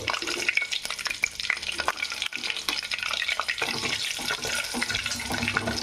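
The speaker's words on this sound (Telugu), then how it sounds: "బాగా గరిట పెట్టి తిప్పుకుందాం" Chicken curry with onions and green chillies being stirred with a ladle in a pan for traditional country rooster curry, with steady sizzling frying and repeated scraping strokes, close and continuous with no talking.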